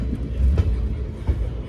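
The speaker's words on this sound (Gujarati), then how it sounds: "શું છે આ નવી ટ્રેન મુકાણી છે" A train rumbles nearby on a sunny morning, a low rolling drone with a couple of heavier thumps from the wheels.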